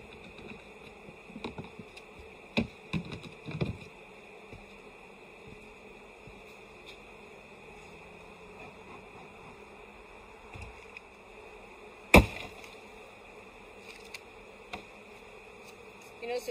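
Honeybees buzz and fly around a subarctic hive, a continuous close hum broken by occasional sharp knocks and bumps from handling the frames.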